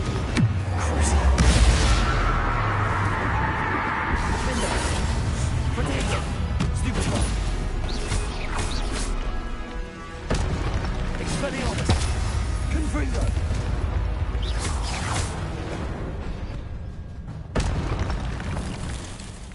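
Explosive boom of the Confringo blasting spell in the video game Hogwarts Legacy, heavy and sustained amid dense battle noise with speech layered over it throughout.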